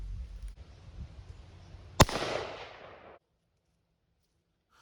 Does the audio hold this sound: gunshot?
yes